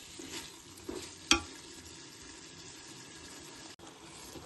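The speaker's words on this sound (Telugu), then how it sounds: "చికెన్ అయితే ఇలా ఉడుకుతుంది. మధ్య మధ్యలో మనం కలుపుకోవాలి" Chicken with gongura cooks in a pot for gongura chicken biryani, a quiet steady simmer and sizzle with one sharp scrape of stirring, no voices.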